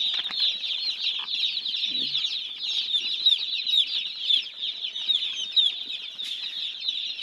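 Day-old chicks in a brooder cheep continuously in a dense, high chorus of overlapping peeps, close and fairly loud, with no talking.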